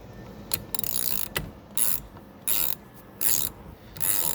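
Ratchet with a 13mm socket loosening a bolt on a 1993 Chevy truck: several short bursts of rapid clicking pawl ratcheting, close and fairly loud, with brief gaps between strokes.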